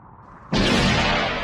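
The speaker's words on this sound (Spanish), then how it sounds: "se escucha un disparo, pero no cae ningún ave" After a brief quiet moment, a single loud gunshot from a hunting scene in a western film bursts out, its boom lingering and decaying slowly.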